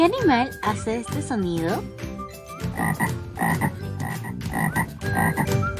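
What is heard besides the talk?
toad croaking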